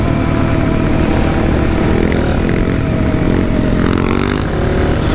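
A motorcycle engine revs loud and steady throughout, a continuous near roar with a slight swell near the end, with no talking.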